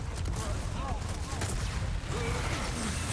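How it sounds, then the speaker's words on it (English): Gunfire and a grenade blast crack in Resident Evil 4 Remake combat, several sharp reports scattered over a busy, loud game mix with whooshing effects, while a voice talks over part of it. "Yeah, have a big grenade, bro."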